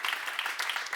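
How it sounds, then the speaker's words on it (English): Brief, faint clapping from an audience at a public talk on designing public spaces, a short soft patter of hands lasting about a second. "You can clap if you want."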